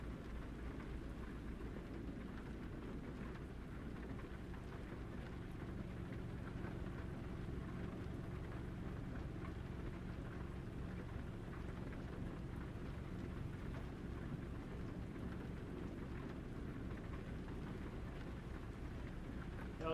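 Steady rain hisses across the scene in American Truck Simulator, with low rumbles of thunder mixed into a constant, fairly faint wash of sound and no voices throughout.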